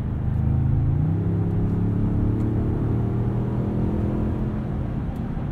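A 2021 Ford F-150 4X4 SuperCrew Limited with a 10-speed transmission drives on the road, its engine giving a steady low rumble and drone heard from inside the cab, with no talk over it.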